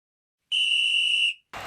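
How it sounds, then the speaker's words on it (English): Referee whistle in a football video game, a single bright, steady blast lasting under a second that cuts off sharply, followed by a burst of broadband noise. "Again, straight from the whistle."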